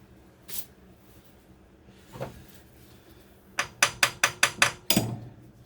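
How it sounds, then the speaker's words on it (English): Repeated metal smacks on a rusted linkage of a 1956 Oldsmobile 88, struck to break the rust loose: a few scattered knocks, then a quick run of about six sharp, ringing hits and a heavier final blow, close and loud. "Hey Jimmy, why are you smacking that thing for? That helps to break the rust loose"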